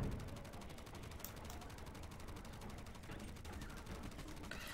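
Rapid automatic gunfire in Borderlands 3, played as Moze, rattles on as a continuous fast burst of evenly spaced shots at low volume, with no one talking over it.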